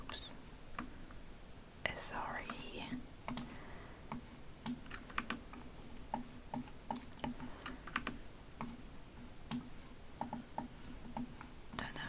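Soft whispering over rapid, close computer keyboard typing and scattered mouse clicks while playing the game Shapez 2, quiet and intimate with irregular clusters of taps.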